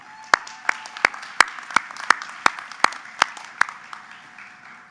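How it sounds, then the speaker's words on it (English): Slow, evenly spaced rhythmic claps at a spring commencement ceremony for faculty and staff, about a dozen sharp beats at a steady pace over a soft bed of crowd applause. "let's take this moment to give our faculty and staff one more big round of applause"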